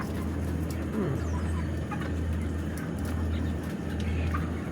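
Many chickens cluck and murmur together in a crowded poultry shed, over a constant low mechanical hum of running exhaust fans.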